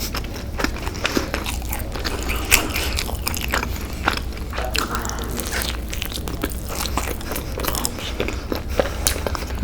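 Loud, close bites and crunchy chewing of Taco Bell rolled chicken tacos with cheese, a dense run of crackly crunches and wet mouth sounds continuing steadily without talk.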